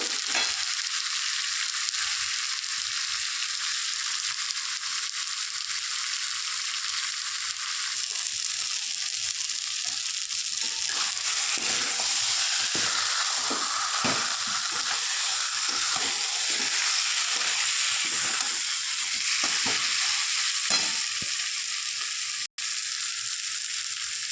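Chicken fries and is stirred in a pan with a constant, close hiss of sizzling oil. Scraping and crackling stir strokes come in bursts through the middle.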